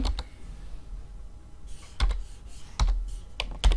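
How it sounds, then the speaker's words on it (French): Typing on a computer keyboard while entering VBA macro code in Excel: a few sharp, loud key clicks in small bursts separated by quieter gaps, close to the microphone, with no talking. "Donc je vais taper range"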